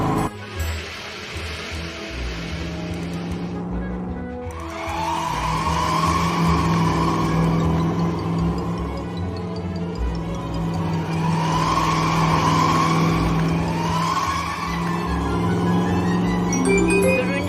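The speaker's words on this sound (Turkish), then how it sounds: "Arabalar şimdi turuncu tünelden geçiyorlar." Racing cars speed along a track through an orange tunnel, with a loud, continuous engine whine and sweeping, skidding tire squeals that rise and fall for about seventeen seconds.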